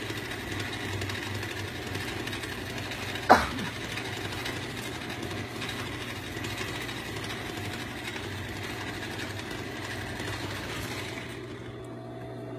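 A double needle cover stitch sewing machine sews a stretch beanie with a steady, even mechanical hum and fast needle rattle, fairly quiet and continuous, with a single sharp click early on and the motor easing off at the end.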